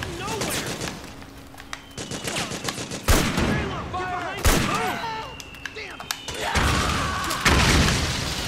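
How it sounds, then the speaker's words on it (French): Mortar blasts and rapid gunfire in the video game Metal Gear Solid 4, bursts of shots and heavy booms crackling repeatedly amid chaotic battle noise, with some voices mixed in. "il y a un mortier qui est en train de leur tirer dessus"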